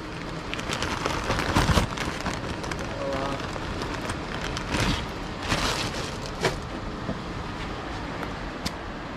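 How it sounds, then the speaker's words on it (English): Steady rain patters on a hard surface, a dense wash of drops with occasional louder splashes, with some faint talk in the background. "I didn't know it was supposed to rain"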